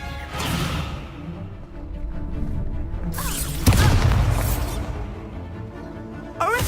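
Descendo spell cast in the video game Hogwarts Legacy, a heavy booming blast with a whooshing rush and crashing impact, loud and close amid layered game effects, with a second burst near the end.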